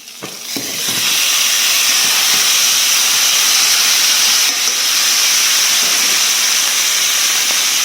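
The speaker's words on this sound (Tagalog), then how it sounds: "Ilalagay natin ang sibuyas. Ayun. Tumatalsik." Onions, garlic and ginger fry with chicken for chicken afritada, a loud, close, continuous steamy sizzle and spattering hiss that surges after a few clacks at the start and keeps on without talk.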